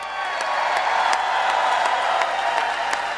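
A rally crowd claps steadily and continuously for a police chief at a Donald Trump rally in Melbourne, Florida, a dense, even wash of applause with a few sharper claps.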